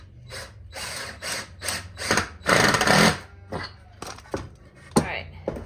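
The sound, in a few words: drill driving lag bolt into table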